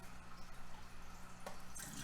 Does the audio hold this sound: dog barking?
no